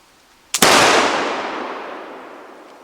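A Pedersoli Queen Anne flintlock pistol fires one shot: a brief pan flash crack followed a split second later by the loud main report, which rings and decays slowly over two seconds.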